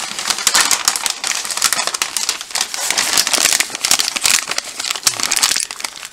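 Paper crinkles and rustles continuously as it is folded around butchered rabbit meat for packaging, loud and close with no talk.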